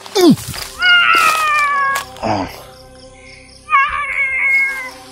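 A cat meowing loudly and close, several drawn-out, wavering meows separated by short pauses, with faint insect chirping in the quiet background.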